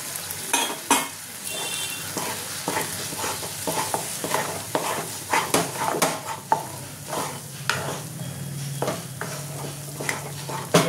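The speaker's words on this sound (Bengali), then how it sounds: "এটাই ভালো করে একটুখানি শুকনো শুকনো করে কষিয়ে নেব।" Dhoka curry masala, spiced with salt and a little sugar for a Bengali prawn dhokar dalna, is dry-fried and stirred in a pan. A spatula scrapes and clinks repeatedly over a steady close sizzle, with no talking.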